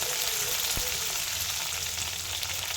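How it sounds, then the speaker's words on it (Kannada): Mustard seeds, green chilli and curry leaves fry in hot oil with a steady, close, crackling sizzle and one brief clack partway through. "ನಂತರ ಅದಕ್ಕೆ ಸಾಸಿವೆ, ನಂತರ ಹಸಿಮೆಣಸು ಮತ್ತು ಕರಿಬೇವು"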